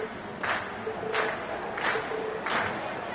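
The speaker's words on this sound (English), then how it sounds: "we've heard your cheers loud and clear" A crowd in an audience chants and cheers in rhythmic waves, roughly four swells in a few seconds, after a class's stage performance, the sound steady and moderately loud from a middle distance.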